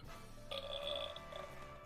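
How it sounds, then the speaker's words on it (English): Comic burp sound effect, a single drawn-out belch with a tonal, buzzing quality lasting about a second over a low background hum. "Oh, wait, I got a burp sound effect"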